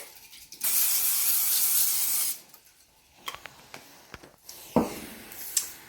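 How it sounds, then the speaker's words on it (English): Cooking spray hisses into a cake pan for a flourless chocolate cake in one steady burst of nearly two seconds, followed by light clinks and handling noises. "Now I'm going to spray it with some cooking spray"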